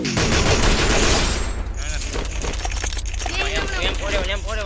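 Rapid bursts of gunfire from the Free Fire video game, loud and dense at first and then continuing as scattered shots under a busy game soundscape with voices talking.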